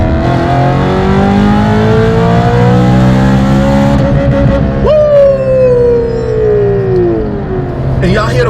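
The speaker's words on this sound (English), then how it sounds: "And y'all hear the blow-off valve?" A V8 BMW M3 engine revs hard with rising harmonic tones, then a sharp whooshing turbo blow-off valve release as the revs drop, followed by more engine drone.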